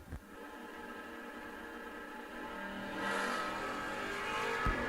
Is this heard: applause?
no